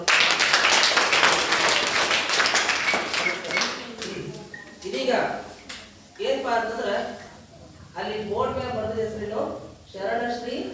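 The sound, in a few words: audience applause at a school celebration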